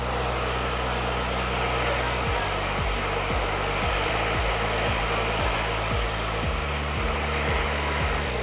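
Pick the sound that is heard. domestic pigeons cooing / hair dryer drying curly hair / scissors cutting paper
hair dryer drying curly hair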